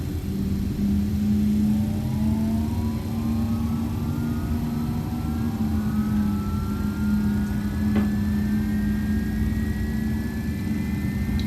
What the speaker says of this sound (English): Good start on engine number 2.